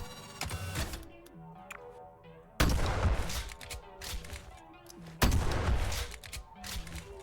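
Pistol fire in the sci-fi shooter Galactic Vault: two loud, sharp shots about two and a half seconds apart, each with a ringing tail, between quieter ticking reload and handling clicks.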